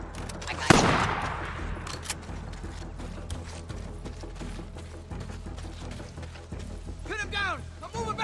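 Gunfire in the Days Gone video game: a sharp, loud shot opens a stretch of rapid, scattered firing, with shouted voices and movement noises mixed in and further bursts near the end.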